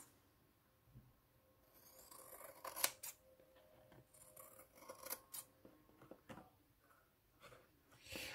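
Scissors cut away excess paper and fabric from a shabby-style scrapbook pouch. Close, quiet snips and rasping blade strokes come in irregular bursts, with a few sharper cuts and no talk.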